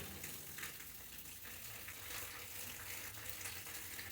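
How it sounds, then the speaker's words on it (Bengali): Water running while a mixer grinder jar is rinsed and scrubbed clean, a steady faint wash of splashing and hiss throughout with no speech. "একটু জল দিয়ে ডলে দিলাম পরিষ্কার হয়ে গেলো"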